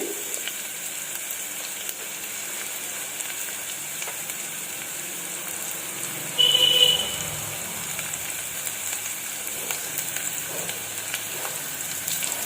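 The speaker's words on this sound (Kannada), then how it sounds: "ಇದು ಸ್ವಲ್ಪ ಎಣ್ಣೆಲಿ ಫ್ರೈ ಆಗಲಿ" Maggi masala rice frying in oil gives a faint, steady sizzle throughout, with a brief louder burst of sizzling and stirring near the middle and no talk.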